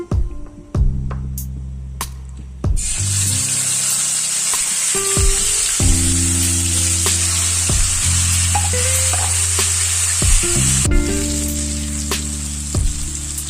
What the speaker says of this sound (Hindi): उसी पैन के अंदर, उसी ऑयल के अंदर अब हम ये जो चिकन मैरिनेट किया हुआ है इसे हम डाल देंगे।